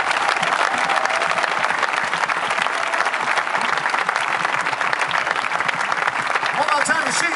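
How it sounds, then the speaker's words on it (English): A concert crowd at a jazz festival applauds the touring crew, with sustained dense clapping and some cheering across the whole stretch, loud and full, with speech faintly underneath. "we want to give them a big round of applause"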